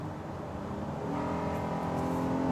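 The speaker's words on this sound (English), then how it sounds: "when you bury the throttle, let's say to pass slower traffic, you can take a beat before the downshift arrives" Honda Odyssey minivan with a 10-speed automatic accelerating hard after a kickdown, engine note rising steadily in pitch and building in loudness, heard up close without talk.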